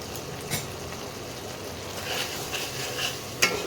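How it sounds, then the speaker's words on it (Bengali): Spice paste with tomatoes and Kashmiri chilli powder fries in a pan for a fish curry, giving a steady sizzle with intermittent stirring scrapes and a sharper clink near the end, no voices. "এবারে মশলাটাকে একটু ভালো করে কষাতে হবে"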